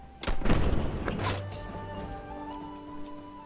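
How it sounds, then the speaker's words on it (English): Sniper rifle shot in Battlefield V: one sharp close crack with a heavy thump, trailing into a fading echo and a faint ringing tail. "I line up the crosshair on his head, and I take the shot"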